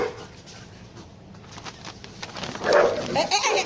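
A dog barking and yelping outdoors in short bursts near the end, mixed with a voice talking over a noisy background.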